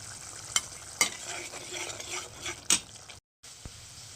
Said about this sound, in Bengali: এবার কিন্তু আমি এই মশলাটাকে খুব ভালো করে কষাবো একদম তেল বের করা পর্যন্ত